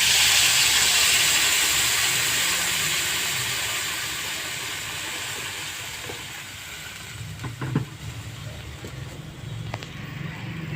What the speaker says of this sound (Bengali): ভালো করে ভেজে নিয়েছি, এবার জল দিয়ে দেবো।